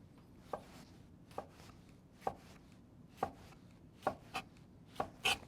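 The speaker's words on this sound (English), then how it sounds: "Now I'm going to do a little more chopping." A knife chops vegetables for a watermelon and feta salad in seven sharp, evenly spaced strikes on a board, close and clear with no voices.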